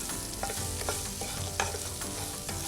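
Chopped green chilli and onions roast in a pan, giving a steady close sizzle with repeated scraping strokes of stirring and no talk.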